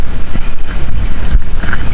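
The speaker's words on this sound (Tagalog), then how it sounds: "Maalon, tapos mahangin." Steady gusting wind roars over choppy sea while fishing, a continuous low rumble with buffeting against the microphone and no voices.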